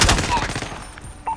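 A quick burst of gunfire crackles in the video game Call of Duty Warzone Resurgence, several rapid shots up close followed by fainter distant pops.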